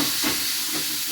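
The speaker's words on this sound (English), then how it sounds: "I've taken the chicken breast that we marinated in some soy sauce and I'm pan frying it real hot." A soy-marinated chicken breast sizzles in a very hot frying pan, a loud, steady hiss that fills the short moment without any talk.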